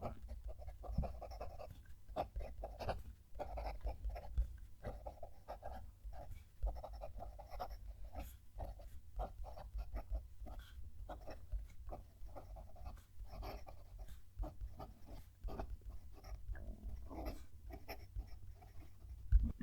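Soft, continuous scratching of a gold Sailor Pro Gear Slim fountain pen nib moving across paper, close and quiet, with short pauses between strokes.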